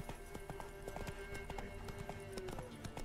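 Roach the horse gallops in The Witcher 3, a steady run of hoofbeat clip-clops at close range with a faint high tone held over part of it.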